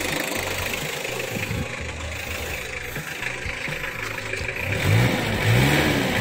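A 2001 Mitsubishi Kuda diesel engine revs up close, a steady loud rumble rising into stronger throttle surges near the end, with no talk over it.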